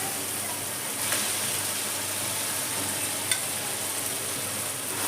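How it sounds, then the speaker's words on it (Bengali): Marinated chicken hitting a hot pan of fried spice paste for a panch phoron chicken curry, producing a steady, loud sizzle and frying hiss throughout, with a couple of brief stirring clatters. "মশলাটার মধ্যে চিকেনটা আমি দিয়ে দিলাম, ম্যারিনেট করা চিকেনটা।"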